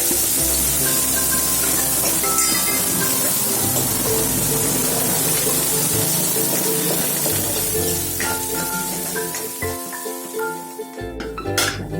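Asafoetida and chopped onion sizzle and crackle in hot oil for a phodni tempering for palak paneer, a loud steady frying hiss with occasional clinks of a spoon, tapering slightly near the end.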